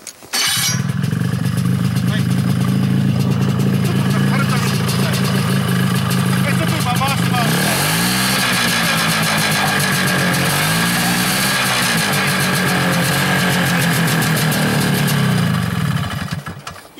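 A snowmobile engine fires up at a training course in Shiozawa and settles into a steady, loud mid-pitched idle, then briefly blips and wavers partway through before dropping away near the end.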